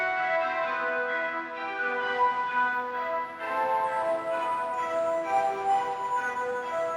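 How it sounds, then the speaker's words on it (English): A reverb pedal with its effects knob pushed to the top end gives a dark, sustained tonal wash with stacked ringing overtones and a grainy, aliased edge, held at an even level with no talking. "you start to hear some aliasing. Kind of like a bad 90s MP3."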